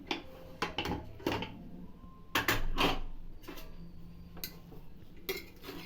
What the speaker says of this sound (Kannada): ಕುಕ್ಕರ್ ಮುಚ್ಚಳ ತೆಗಿತಾ ಇದ್ದೀನಿ